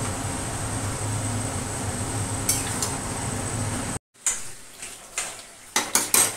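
Mutton braises in a pot: a steady sizzle for several seconds, then, after a brief pause, a spoon scrapes and clinks against the pot in repeated close stirring strokes.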